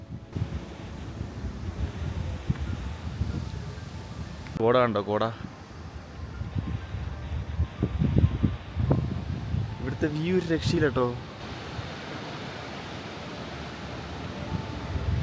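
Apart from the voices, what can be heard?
strong wind blowing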